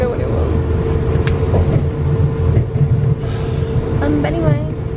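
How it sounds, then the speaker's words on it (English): Steady rumble and droning hum from inside a moving train carriage on a sunny day, loud and continuous with faint clicks and rattles. "But anyway, we're on the train."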